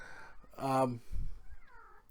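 A pet cat meows once, a clear drawn-out cry up close, followed by a quieter second call, with soft low rustles between.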